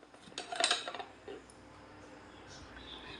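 A muddler crushes lime slices and mint leaves in a glass for a Sprite mojito, a few quiet close clinks and knocks in a short cluster, then fading to near silence.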